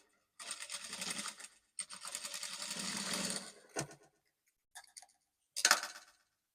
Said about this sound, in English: Then I'll just sew half inch and blend it to nothing to create like a dart